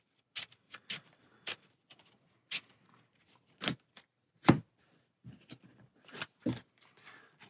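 Cards from the Ascension Eternal deck-building game shuffled by hand at a table, heard as a series of crisp, separate snaps and riffles spaced irregularly, close and fairly quiet against near silence.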